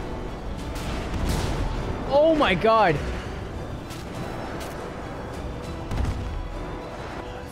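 Gunfire from helicopters in the video game GTA 5, booming shots in the background while someone shouts briefly over them.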